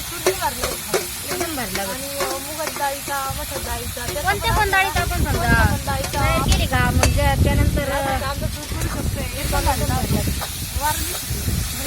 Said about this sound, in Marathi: आम्ही त्याच्यामध्ये टाकून लगेच चांगलं परतून घेणार कांदा